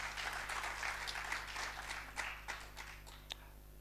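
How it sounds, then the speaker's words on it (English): At a World Engineering Day 2022 gathering, the audience claps for itself: a faint, distant patter of many hands that fades gradually over four seconds, with a few sharper claps near the end. "let's clap for ourselves."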